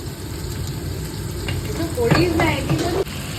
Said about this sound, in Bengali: এদিকে সসেস ফ্রাই হচ্ছে